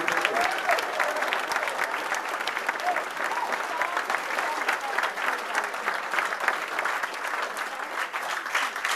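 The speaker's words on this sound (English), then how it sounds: "Ladies and gentlemen, big round of applause for Morné" Sustained audience applause at a Hong Kong event honouring Morné Du Plessis, a dense steady patter of many hands clapping throughout, moderately loud with a faint crowd murmur beneath.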